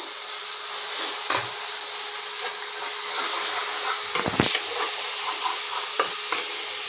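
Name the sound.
onion and tomato paste frying and stirred in oil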